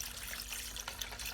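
Evaporust rust remover liquid poured over rusty sockets, giving a steady close trickle and splash like running water, fairly quiet and continuous with no talking.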